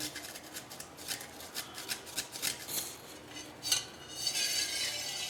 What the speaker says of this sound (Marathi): जायफळ थोडंसं किसून टाकूया